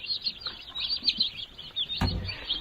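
A newly hatched chick chirping on a farm, thin high peeps repeating steadily and fairly faint, with a single dull knock partway through.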